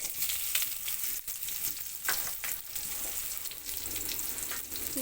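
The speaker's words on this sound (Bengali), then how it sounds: "ব্রাউন কালার করে পেঁয়াজটা ভেজে নেব" Sliced onions fry in hot oil tempered with whole cumin, bay leaf and dried red chillies, giving a dense, continuous crackling sizzle with small pops close by, with no talking.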